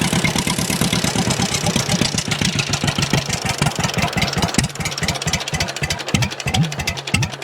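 An 83-year-old John Deere B tractor, once stuck and just hand-started for the first time, idles loudly and close by with a steady, rapid chugging beat that runs throughout without talk.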